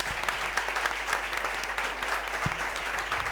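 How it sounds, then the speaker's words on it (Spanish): A crowd at a journalism talk claps steadily in a continuous round of applause, dense and even throughout, with no voices standing out. "Un aplauso enorme."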